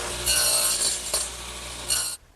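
Radial arm saw, raised with a higher fence, nibbling a shoulder into wood: a steady, loud rasping cut with two brief surges in intensity, ending abruptly as the blade clears the work.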